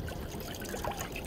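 Water poured from a container into a camp cooking pot to make spicy ramen at a lakeside campsite, a steady low trickle and splash lasting a little over a second, fairly quiet against outdoor background noise.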